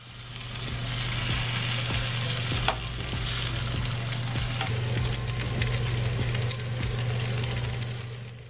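Pork chops sizzle and crackle steadily as they sear in a hot skillet, with occasional sharp pops and a low electrical hum underneath.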